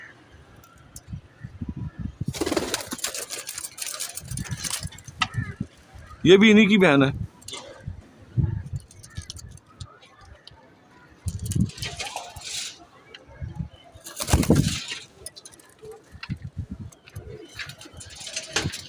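Saharanpuri show pigeons coo in soft, throaty bursts, with a clearer run of cooing near the middle, mixed with wing flutters and someone talking nearby.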